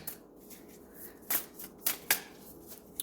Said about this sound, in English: let me grab one more card